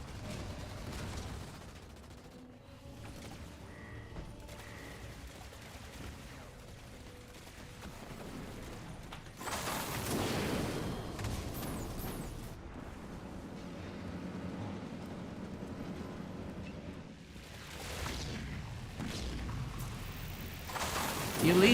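Grenadier explosion and gunfire in a Halo Wars 2 2v2 tournament match, a dense, continuous clatter of shots with loud booming bursts near the middle and end, mixed under game ambience.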